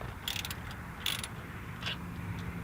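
Ratchet wrench tightening bolts while installing a rear Air Lift on a square body Suburban, a few short bursts of quick clicking, fairly faint over low background noise.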